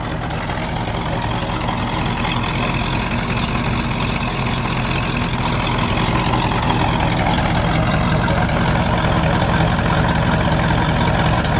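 A 1970 Oldsmobile 442's 455 cubic-inch V8 idles with a deep, lumpy rumble, loud and close, holding steady throughout with no talking.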